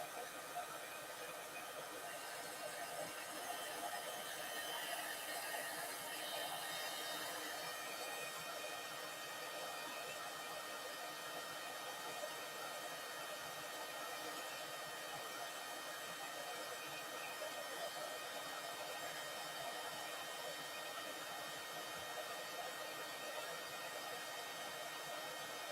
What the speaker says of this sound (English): You can put shrink plastic in the oven, but it works fantastically with our heat tools.